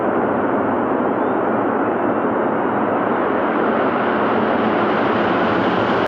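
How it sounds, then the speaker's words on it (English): Space Shuttle Discovery lifts off, a loud, continuous broadband rocket roar that holds steady with no talk over it and cuts off abruptly at the end. "Booster ignition and liftoff of Space Shuttle Discovery"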